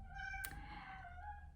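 A house cat gives a single short, fairly quiet meow in an indoor room, standing alone against a low background hum.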